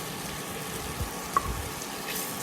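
Onions frying in butter and oil on a tawa for Mumbai-style pulao, a low steady sizzle with a few soft tossing knocks and one brief sharp clink, no voices.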